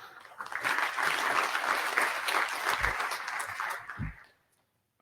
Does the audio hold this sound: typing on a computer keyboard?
no